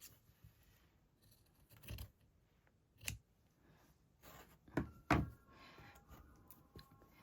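Scissors snipping off excess velvety fabric during slow hand stitching, a few quiet, separate crisp cuts and light handling rustles in a hushed room.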